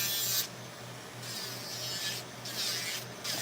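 Diamond drill bit grinds down an acrylic nail set in close, high whirring bursts that start and stop several times, loud and abrasive with no talk.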